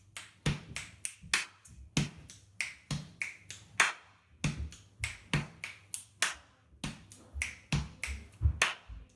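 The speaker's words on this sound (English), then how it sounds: "This is where you put in a sneaky clap." Sharp, crisp hand claps or snaps repeat in a steady rhythmic pattern, near and moderately loud, with short gaps between beats and no voices.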